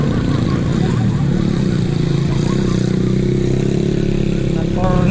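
A motorcycle engine running close behind, a steady loud mid-pitched drone sustained throughout with a slight rise at the end, under the noise of a busy road.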